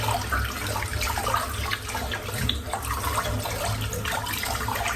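Tap water runs steadily into a bathroom sink while lather is worked up for a shave, a close, continuous splashing flow with no talking.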